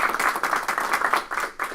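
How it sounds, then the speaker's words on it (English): An audience at a school Board of Education meeting applauds new staff with a short burst of clapping, many hands heard at a moderate level with slightly uneven rhythm and no speech. "You just stand and we'll applaud for him"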